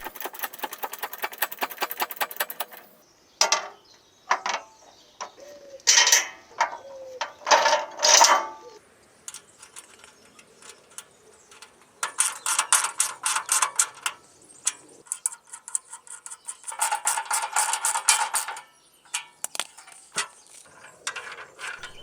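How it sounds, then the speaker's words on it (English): Bushing pressed into a rusty garden tractor linkage, with bursts of close ratcheting clicks in irregular clusters separated by quiet pauses. "before we can do anything we need to press the bushing into it"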